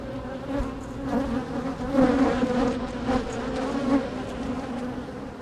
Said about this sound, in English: I hear and feel a bunch of bees on me.